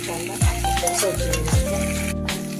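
Onion and tomato sauté in a pan with a little garlic, giving a steady loud sizzle with stirring scrapes throughout, and a couple of brief deeper whooshes rising over the frying noise.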